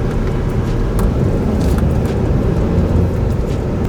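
A restored Chevrolet Aveo accelerating hard with strong pickup, a loud, close, continuous engine roar with road noise and no talk.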